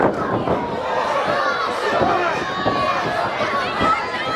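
A wrestling crowd roars after a flying forearm knocks a wrestler down, a steady dense wall of cheering and chatter that runs the whole time, with commentary voices talking over it.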